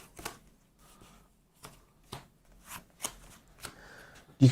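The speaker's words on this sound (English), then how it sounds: "I'm just shuffling them back to the top." Playing cards being shuffled at a tabletop board game session, a series of short, crisp riffling bursts at irregular intervals, fairly close and quiet, ending in a louder thump.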